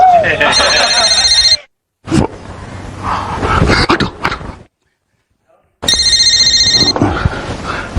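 A telephone bell rings in two bursts, one at the start and another a few seconds later, with a Hindi TV comedy scene's dialogue between the rings.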